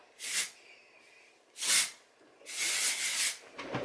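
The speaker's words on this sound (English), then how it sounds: "I'm just going to use my spray." Three bursts of hairspray hissing close by, the first two short, the last longer and sustained, with quiet pauses between.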